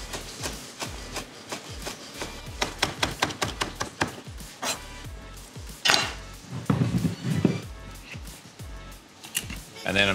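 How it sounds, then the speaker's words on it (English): A knife chopping rosemary and thyme on a board, a string of quick, sharp cuts in irregular bursts, with someone talking over part of it. "I'm just going to run a knife over both of that."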